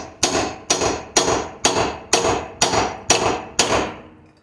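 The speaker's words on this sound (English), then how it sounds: "Now we can hit it with the hammer from here." A hammer strikes a steel pitman arm on a Jeep Grand Cherokee Laredo's steering linkage eight times in an even rhythm, each blow a sharp, loud, close metallic crack with a short ring.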